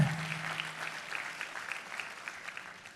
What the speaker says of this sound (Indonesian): Tepuk tangannya yang paling meriah buat Yesus Tuhan kita.